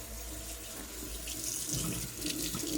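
Hot water runs steadily from a household tap into a sink after repair of a Worcester Bosch C7 boiler, a continuous close splashing flow that holds even throughout.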